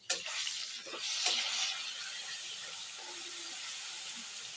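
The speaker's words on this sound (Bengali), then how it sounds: "এখন দিয়ে দিচ্ছি আদা রসুন পেস্ট" Ginger garlic paste hits hot oil with already fried potato and onion, giving a steady close sizzle with a brief sharp burst at the start and soft stirring scrapes, no talking.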